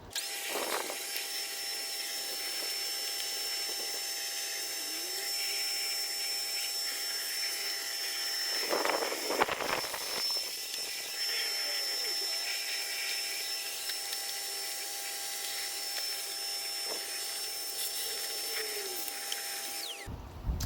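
A vacuum cleaner runs continuously with a steady whine and hum, briefly interrupted by a clunk midway, then droning on.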